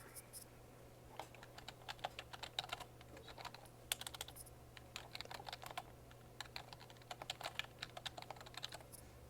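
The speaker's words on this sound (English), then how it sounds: "just going to type down the list to help me remember" Soft, quick clicks of a computer keyboard being typed on, irregular bursts of keystrokes with short pauses over a faint steady hum, no voice.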